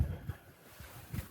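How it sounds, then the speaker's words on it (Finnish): Wind gusting across a lake while sailing, a low rumbling buffet of air on the microphone that swells at the start and again near the end, with no voices. "2 solmun pintaa ja sitten tulee mahdoton puuska"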